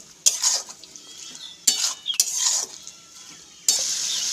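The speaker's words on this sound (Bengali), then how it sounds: "লবণ হলুদ দিয়ে আবারও ভালোভাবে কষিয়ে নেবো" Sautéing in a pan with salt and turmeric, potatoes in the dish: intermittent bursts of a utensil scraping and stirring against the pan over a quiet background, close and fairly loud.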